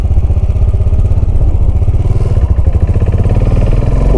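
A Royal Enfield 535 Continental GT cafe racer's engine runs steadily, a loud, close, continuous low thumping pulse with no voices over it.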